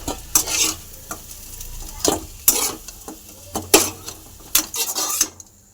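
Potatoes fry in hot oil in a wok, a steady sizzle broken by repeated sharp scrapes and clatters of a spatula stirring them, close and distinct with short pauses between strokes.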